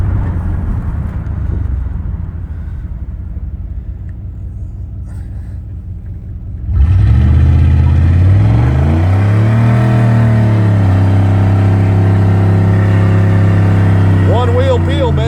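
A 27-year-old Chevrolet Silverado pickup with its catalytic converter removed and new roller rocker arms revs hard while spinning one rear wheel, a loud, close, sustained engine roar that rises and holds after a quieter idling start.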